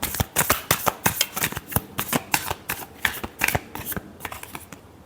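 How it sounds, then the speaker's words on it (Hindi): Tarot cards being shuffled by hand make a rapid series of crisp riffling bursts, close and fairly loud, repeating in an even rhythm throughout with no talking. "last shuffle"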